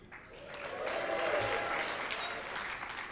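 Audience at a conference keynote breaking into applause and cheering, a dense wash of clapping that swells and then holds steady, moderately distant.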